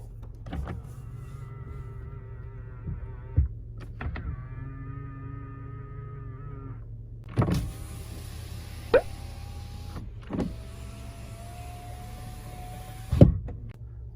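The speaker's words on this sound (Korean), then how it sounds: "접이식 사이드 미러" Power-folding side mirrors on a Hyundai NF Sonata Transform whir open and shut in several separate motor runs, each a steady electric hum ending in a soft clunk, close and clear over a low background drone.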